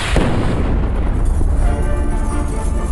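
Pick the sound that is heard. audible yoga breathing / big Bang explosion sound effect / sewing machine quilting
big Bang explosion sound effect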